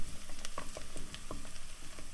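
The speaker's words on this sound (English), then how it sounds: "Now garlic cooks pretty quickly, so you want to turn the heat back down to low." Garlic fries in a pan with a soft, steady sizzle broken by small scattered pops and crackles, faint and close, with no talking.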